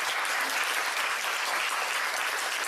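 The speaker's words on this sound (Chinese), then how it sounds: "那我们掌声谢谢他们两个。" An audience claps steadily in a lecture hall after a Q&A session on Taiwan's Indigenous peoples, thanking two speakers; dense, even applause fills the whole stretch at moderate volume without voices.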